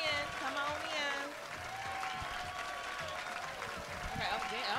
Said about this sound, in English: can we get some hand claps?